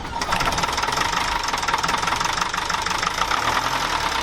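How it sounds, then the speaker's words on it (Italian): Four-cylinder engine of an OM Daino camper running steadily, a loud, continuous rough idle with a knocking mechanical clatter throughout, close to the engine and with no voices. "E andrebbe il motore"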